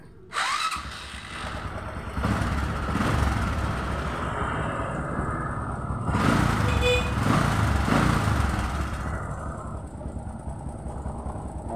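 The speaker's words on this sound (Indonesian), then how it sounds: "Kemudian kita hidupkan mesin." A Honda Supra 125 motorcycle engine starts with a quick crank and settles into a steady, close idle that rises slightly in the middle and then holds, with no talking.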